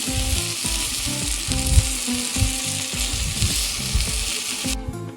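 Taro pieces tumble into moong dal frying in a clay pot, starting a steady loud sizzle with repeated knocks and scrapes of stirring. A brief clatter comes near the end. No one speaks.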